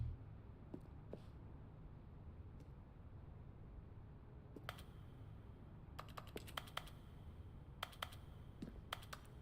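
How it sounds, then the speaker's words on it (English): Quiet, sparse keyboard typing in The Stanley Parable Ultra Deluxe on PS5, a few isolated key taps early, then short bursts of rapid clicking over faint background hum, with no talking. "No matter what, it sounds like I'm typing on a keyboard."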